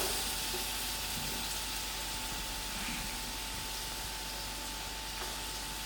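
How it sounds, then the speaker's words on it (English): A large finely cut onion fries in a pot for chicken biryani, a soft, even sizzle and hiss running continuously at low volume, with no one speaking. "I add in my onions. I'm using 1 onion, finely cut."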